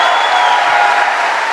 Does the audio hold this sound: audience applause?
yes